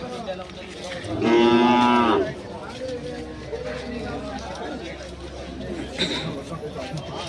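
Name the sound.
cattle mooing at a cattle market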